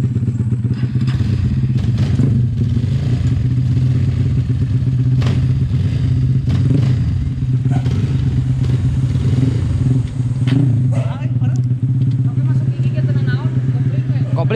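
An offroad motorcycle engine revs repeatedly up close, loud and throaty, with clattering thumps and people shouting over it.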